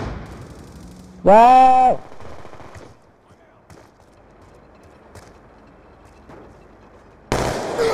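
Call of Duty Black Ops 2 gunfire and a grenade blast, with scattered sharp shots, a loud shout early on, and a sudden heavy burst of explosive noise near the end.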